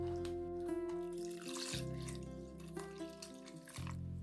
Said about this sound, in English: The water will help to deglaze the pot and lift the spices from the base to the surface.